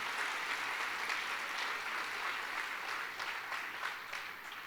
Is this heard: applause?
yes